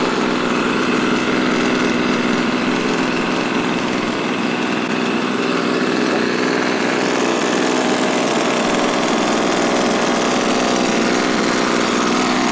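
A new leaf blower engine runs steadily while being broken in, warming up to operating temperature for the first time; a loud, constant close drone with no revving changes and no talk.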